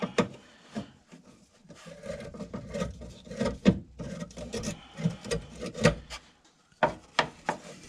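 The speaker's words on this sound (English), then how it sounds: "the first thing I'm going to do is loosen up this clamp" A fuel line clamp on a Ford Mustang from 1994 to 2004 is worked loose with a tool, giving repeated close scraping, rubbing and ratcheting clicks in uneven bursts, with no talking.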